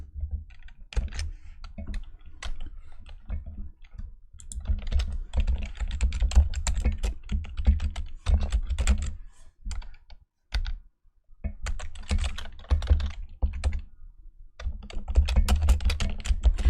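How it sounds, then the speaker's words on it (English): Rapid, loud clacking of keys on a noisy keyboard, close by, in busy bursts with a couple of brief pauses. "Sorry for the noisy keyboard."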